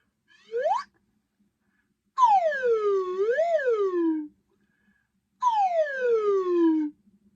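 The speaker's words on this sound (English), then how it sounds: "let's warm up the slide whistle" A slide whistle is blown in three separate gestures: a quick rising swoop, then a long falling glide with a small rise in the middle, then another long downward glide, clear and alone.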